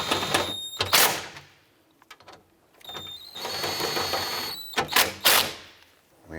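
Bolts being tightened on the rear window regulator inside the door of a 2004-2009 Dodge Durango: bursts of ratcheting and clicking mechanical noise in several close, loud spells with short pauses between them, no voices.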